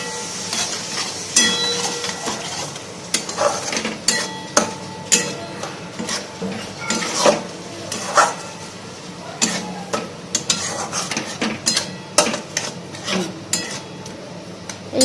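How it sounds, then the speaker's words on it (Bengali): Whole spices and salt stirred in a pan for a paneer navratan korma, with repeated sharp spoon clinks and scrapes against the metal over a light sizzle, close and busy. "এই মশলাটা এবার সব মিলিয়ে একটু নাড়া।"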